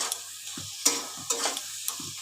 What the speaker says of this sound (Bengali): এবার ভালো করে কষিয়ে নিচ্ছি, গ্যাসটা একটু বাড়িয়ে দিই।